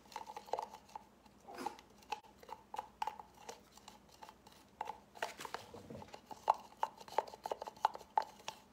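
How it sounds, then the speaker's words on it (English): Sea Spray texture paint is stirred in its container, giving a series of close, soft scraping and tapping strokes in an uneven rhythm, quiet and without talk. "Give it a quick stir."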